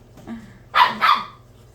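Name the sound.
dogs barking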